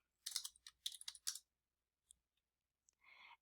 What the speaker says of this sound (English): then I can type in a specific term